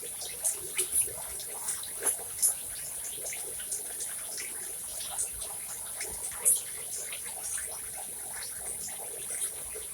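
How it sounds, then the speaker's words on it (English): Garden plants being watered during compost fertilizing, a faint, sparse splashing and dribbling with a few brief louder spatters over a quiet outdoor background. "Give it a touch of water again"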